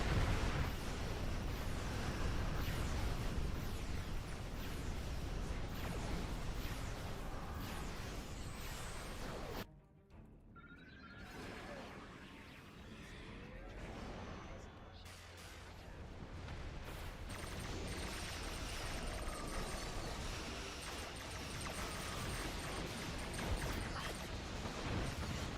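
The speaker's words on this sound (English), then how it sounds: "So many torpedoes!" Dense, continuous torpedo explosions and weapon blasts in the space combat game Star Trek Online, loud and layered, with a brief drop near ten seconds before the barrage resumes.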